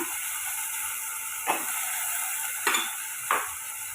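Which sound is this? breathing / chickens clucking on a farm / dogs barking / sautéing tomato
sautéing tomato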